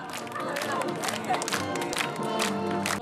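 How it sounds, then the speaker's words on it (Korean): Teenagers in a rural village cheer and shout at a special cultural performance in Seocheon County, South Chungcheong, a dense continuous crowd roar with clapping mixed in, loud and sustained throughout. "청소년들은 환호성까지 지르며 공연 분위기에 흠뻑 취했습니다."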